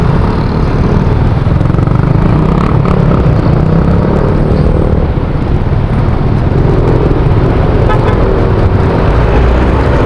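Road traffic in Salawag, Dasmariñas city, slowed to one way by road construction: a steady, loud, close rumble of engines and passing vehicles with faint horn toots, no pauses throughout.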